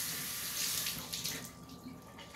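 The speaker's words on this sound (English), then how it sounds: "Wash that blood off." Steady running water pours over a cleaned jack fish to rinse off blood, a close, continuous splashing hiss with small fluctuations and no talking.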